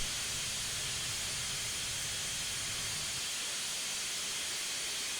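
Steady hissing steam from an AT&N Consolidation locomotive in Train Simulator, a constant close rush of noise that continues alone without any talk for the full stretch.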